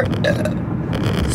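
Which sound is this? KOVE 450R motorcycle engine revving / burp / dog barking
burp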